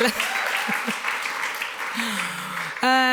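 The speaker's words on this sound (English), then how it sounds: "please clap if you feel like clapping" An audience at an event on women and LGBTQI+ leadership gives a brief round of applause, fairly soft and steady, while a voice talks over it and a musical tone enters near the end.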